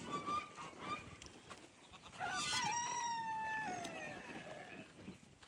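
A rooster crows loudly on a farm, one long rising-and-falling call standing out clearly above faint background clucking and farmyard noise.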